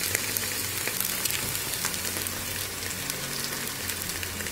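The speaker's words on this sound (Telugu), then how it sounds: "ప్యాటీస్లు కూడా ఒక సైడ్ వేగాక రెండో సైడ్కి మెల్లగా తిప్పేసేసుకుని 2 వైపులా కూడా చక్కగా ఎర్రగా వేయించేసుకోవాలి" Sabudana vada, patties of sago, fry in oil with a continuous bubbling sizzle and fine crackles at moderate volume. The sound holds steady and close throughout, with no voices over it.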